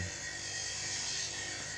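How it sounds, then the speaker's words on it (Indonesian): Coarse sandpaper rubbing over a handmade wooden tobacco pipe with brass fittings, a steady, dense, close scratching hiss that carries on without a break and without voices. "Kita amplas merata dulu pakai amplas kasar seperti itu."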